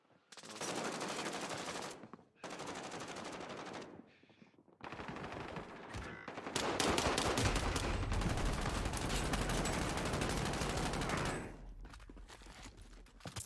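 Loud, sustained automatic gunfire in a co-op video game, long rattling bursts separated by short pauses, the heaviest volley running several seconds before cutting off into brief quieter shots.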